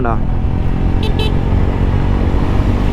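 Honda CB125 Hornet motorcycle cruising in fifth gear at about 50–60 km/h, a steady engine and wind drone running throughout with a couple of brief high chirps, heard under speech.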